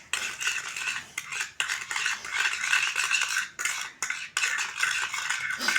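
Homemade violet watercolor paint is stirred with a utensil in a small container, making a close, continuous scraping rattle that breaks off for brief pauses and then resumes, with no talking.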